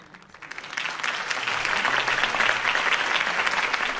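Crowd applause at a political campaign speech in the video game Batman: The Telltale Series, a steady swell of clapping that builds and holds at moderate volume.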